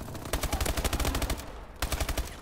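Rapid automatic gunfire from Call of Duty rattles in a dense, loud burst for over a second, breaks off briefly, then a second fast burst of shots follows.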